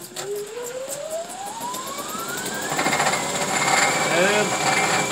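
An electric snowblower runs through a warm-up at -25°C, its motor whine rising steadily in pitch and growing louder as it spins up, with a rapid mechanical rattle underneath.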